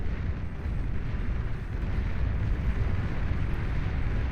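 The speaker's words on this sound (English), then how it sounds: "We do have the Sheldon firing away now. Trying to blast down those heavy tanks." A Sheldon artillery unit pounding heavy tanks in the real-time strategy game Beyond All Reason: a dense, steady low rumble of explosions rolls on without a break, loud and blurred into one thick wall of battle noise.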